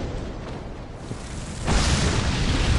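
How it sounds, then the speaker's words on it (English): Dark Souls 2 game audio, a muffled ambient rumble that suddenly swells into a louder booming blast partway through and keeps roaring, with no speech. "So you guys don't hear the absolute explosions"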